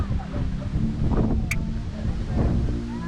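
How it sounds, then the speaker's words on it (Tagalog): Strong wind on Mount Samat in Bataan buffets the microphone in heavy low rumbling gusts, loud and close, surging twice over three seconds with a brief faint tone in between. "Sobrang lakas ng hangin."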